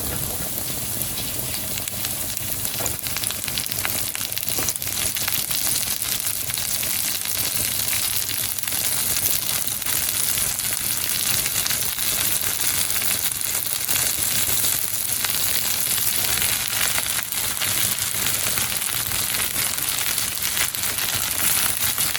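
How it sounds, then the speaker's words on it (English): Vegetables sizzling in a pan as they cook alongside pan-seared chicken, a steady, close crackling hiss that continues without a break, with no voices. "So I'm going to go in with all of the vegetables, and we're just going to cook them in the same pan."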